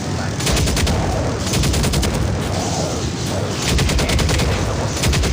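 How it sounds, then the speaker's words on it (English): A big machine gun in the VR game World War Z fires in loud, close, rapid bursts, dense rattling volleys that pause briefly between strings of shots. "This big machine gun you gotta do in short bursts, because it will overheat."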